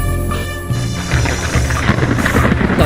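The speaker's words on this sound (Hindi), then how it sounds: "तभी एक बार और तेज चमक के साथ बिजली कड़की" Rumbling thunder with rain in an audio drama, a loud continuous roll that swells and crackles as it builds, heavy low rumble filling the scene without any voices.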